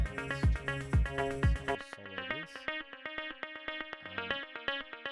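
Music in Ableton Live under automation: a distorted, pulsing synth pattern whose high end opens up as a high cut lifts, with reverb swelling, the rhythmic hits smearing into a washier, echoing tail.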